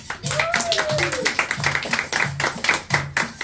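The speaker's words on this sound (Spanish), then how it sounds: "Un aplauso para Carolina." Guests at a party clap for Carolina, a steady patter of hand claps running under a voice speaking over the noise.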